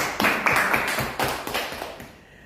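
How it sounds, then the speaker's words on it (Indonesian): A group of students in an audience claps together, a short burst of fairly loud, rhythmic applause that holds steady for about two seconds and then tails off into quiet. "Tepuk tangan dong teman-teman"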